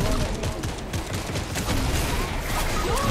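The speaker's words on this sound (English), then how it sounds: "Keep shooting that shit. Keep shooting." Loud, dense gunfire from the video game Fortnite rattles continuously throughout, with rapid overlapping shots and no pause.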